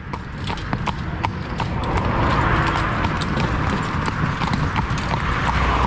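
Hooves of a cob pony in harness clip-clop in a quick, even trot, close and loud over a rumbling cart and rattling tack, with no talk.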